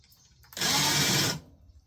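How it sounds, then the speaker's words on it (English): A power drill bores holes through a clamped VR stand, with a single loud burst of bright, whirring drilling that lasts under a second and stops abruptly, with quiet before and after. "I'm gonna go ahead and drill these holes out right quick"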